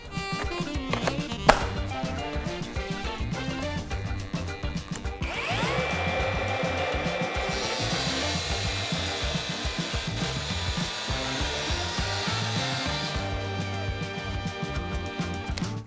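A cordless Dnipro-M angle grinder on a fully charged 4 Ah battery cuts through 8 mm steel rebar, a steady loud abrasive whine and grinding rasp sustained for several seconds after earlier brief clatter and handling noises, with no talk.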